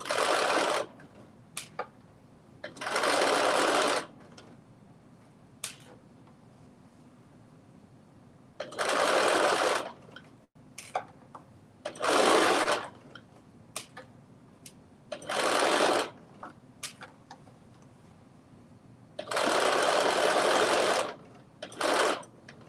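Sewing machine back stitching while setting the sleeves into an oversized puffy-sleeve dress: six loud bursts of rapid stitching, each a second or two long, separated by quiet gaps with small clicks and handling noises.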